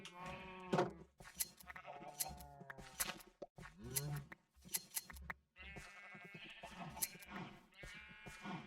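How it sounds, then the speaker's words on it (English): Sheep in Minecraft bleating again and again in short wavering calls, several overlapping, with brief gaps between them and no talk over them. "We need to go shear our sheep up there"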